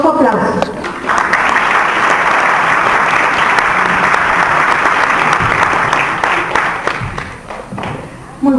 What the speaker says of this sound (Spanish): Démosle un caluroso aplauso.